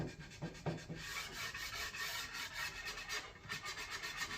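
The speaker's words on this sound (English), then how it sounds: "Now just cleaning the handle." Quiet rubbing and scraping on a wooden axe handle as it is cleaned after the head has been sharpened and polished, a close, faint run of uneven back-and-forth strokes.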